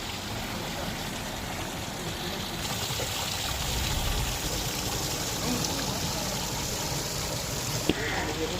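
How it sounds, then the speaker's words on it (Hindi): Water pours steadily down an artificial cement corner waterfall with colored rockwork, a constant full rushing wash close by that never lets up. "ये कॉर्नर में वाटरफॉल सीमेंट के बाद और कलर के बाद कंप्लीट हो चुकी है।"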